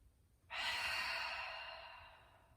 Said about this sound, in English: We're going to take 3 exhales through the mouth.